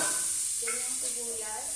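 Garlic dropped into hot cooking oil, destined for a noodle dish with sardines, sizzles and hisses steadily up close, with brief stirring scrapes and a faint tonal whine partway through, no speech.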